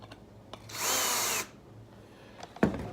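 Power drill driving screws out of a hard drive's retaining ring: a single short, high whir lasting under a second, faint and close, with small clicks and taps around it.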